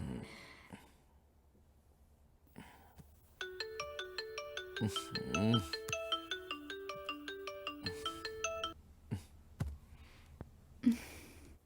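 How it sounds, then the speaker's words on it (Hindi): A phone ringtone in a Hindi-dubbed South Indian film, a repeating melodic electronic ring that plays for several seconds at moderate loudness, preceded and followed by faint breaths and small clicks. "किसका फोन आ रहा है भार्गव?"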